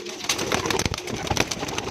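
Dera-style breeder pigeons coo in a loft, with overlapping low, rolling calls and some wing or cage rustling throughout, close and fairly loud.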